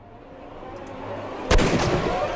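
A single loud, sharp gunshot rings out in the video game Sherlock Holmes: Crimes and Punishments, cutting through a low rumbling background and leaving a brief echoing tail.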